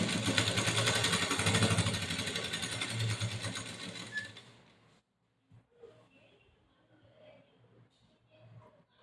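A sewing machine stitching the hem along a saree edge runs loud and steady in a continuous whir for about four seconds, then stops, leaving quiet handling sounds and faint bumps of cloth.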